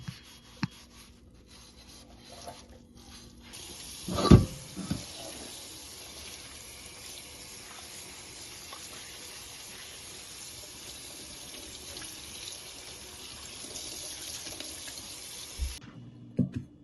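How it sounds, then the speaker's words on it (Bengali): Tap water runs steadily into a sink while oily, grease-caked lamp shades are rinsed and washed, with a few clunks from handling near the start and again at the end. "তো এখন আমি এটা সুন্দর করে পরিষ্কার করে ধুয়ে নিব।"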